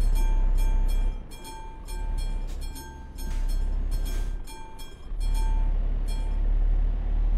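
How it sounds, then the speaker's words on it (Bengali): A train passes in the Euro Truck Simulator 2 driving game, its steady rumble joined by a sustained horn-like tone and a regular run of clicks from the wagons, loud and continuous throughout. "সামনে কিন্তু ট্রেন"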